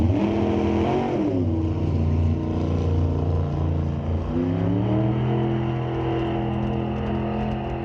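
A 1957 Corvette Roadster drag racing down the strip at a raceway, engine roaring loud and close with pitch climbing through gear changes, continuous and dominant with no talk over it.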